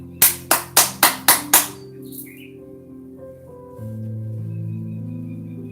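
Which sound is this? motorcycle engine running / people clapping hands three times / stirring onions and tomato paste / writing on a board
people clapping hands three times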